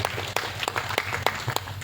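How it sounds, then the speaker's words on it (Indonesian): An audience at a national santri gathering in Palembang claps for Al-Ihya Al-Mukmin, with scattered individual claps standing out over a soft, continuous crowd patter. "Sekali lagi tepuk tangan untuk Al-Ihya Al-Mukmin."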